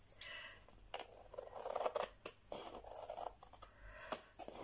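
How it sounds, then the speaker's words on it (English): Scissors cut excess paper or material from a glued mixed-media craft piece, with repeated close snips and scratchy rubbing sounds in a quiet room. "I will now cut the excess off."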